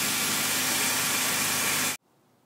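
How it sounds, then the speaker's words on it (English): A Toyota T100 truck's 2.7 engine runs with a loud, steady hissing roar close by, then cuts off abruptly into near silence. "the engine is started up, and it seems fine."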